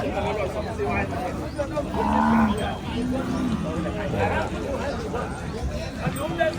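Cattle at a rural livestock market in Thailand, with a young cow giving a couple of drawn-out moos amid a steady babble of people talking nearby.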